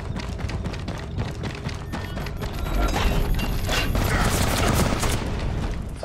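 Gunfire in the video game Army of Two: The 40th Day, a dense run of sharp rapid shots and bursts that swells into heavier booming fire midway, with game ambience behind.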